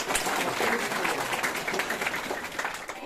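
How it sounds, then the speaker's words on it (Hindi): Steady, dense clapping from a crowd of school children, continuous and fairly loud throughout with a busy, crackling texture. "ताली बजा दो"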